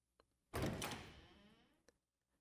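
A door clicks shut in the visual novel game Tsukihime: a single soft swishing thud with a short fading tail, then a faint click, heard alone in a quiet room.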